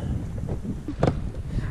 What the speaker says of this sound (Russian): У нас ветер не стихает.